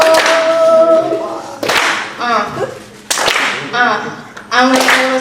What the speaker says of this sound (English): Keep clapping, because you got to see it.